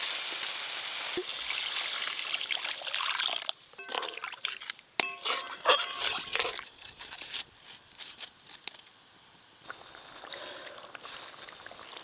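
Water is poured into a pan of cooked-down fish curry spices, a steady wash of hissing liquid followed by clinks and sizzling bubbles as the gravy settles, close up with no talking.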